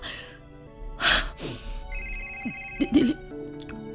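A phone rings with an incoming call, a tonal electronic ringtone with repeated bursts, moderately loud, mixed with background music and brief gasps or breaths.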